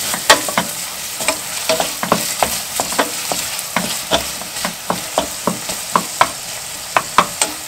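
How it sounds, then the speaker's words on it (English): Onions with pepper and sugar stirred in a hot pan for foraged watercress soup, a spoon scraping in a steady, close rhythm of sharp strokes over a soft sizzle. "Give it a good stir."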